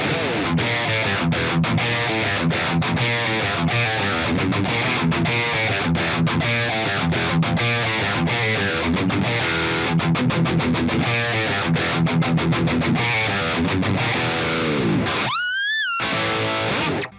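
Distorted electric guitar riffing through a Bogren Digital Marshall BDM 75 Plexi-style amp plugin, dialed for a classic metal tone; loud, palm-muted chugging and chords played continuously, ending abruptly with a brief dropout.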